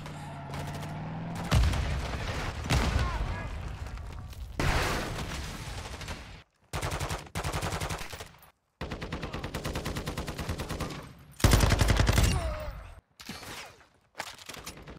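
Bursts of automatic gunfire in the video game Call of Duty Warzone DMZ, several loud rattling volleys separated by short silent gaps, with some game voice in between.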